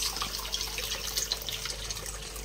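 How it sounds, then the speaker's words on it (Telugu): Water runs steadily into tamarind pulp during cooking, a continuous close splashing pour with light dripping and gurgling for a couple of seconds, with no voices. "మనకు ఎంత వాటర్ కావాలో అంత యాడ్ చేసుకోవచ్చు ఫ్రెండ్స్."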